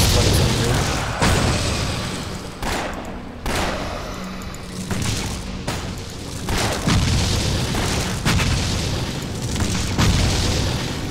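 Repeated explosion skill effects in the video game Torchlight, a string of loud booms and blasts bursting every second or two over a dense, busy game soundtrack, without speech.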